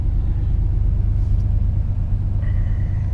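A car engine idles steadily while warming up on a cold morning, a loud, close, constant low rumble with a faint high whine appearing near the end.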